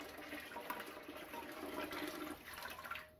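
Water splashes and gurgles steadily as it is poured into a pressure canner being readied for canning tomatoes, a continuous close, fairly soft pour lasting a few seconds.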